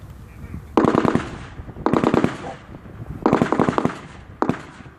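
Blank rounds fired as covering fire by French troops withdrawing at a World War 2 reenactment, heard as four rapid, loud bursts of sharp cracks separated by brief pauses.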